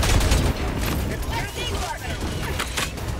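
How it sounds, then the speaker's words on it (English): A Titan's weapons fire in Helldivers 2, a dense rattling fusillade with mechanical clatter, moderately loud and continuous behind the action. "What is that Titan shooting at out there?"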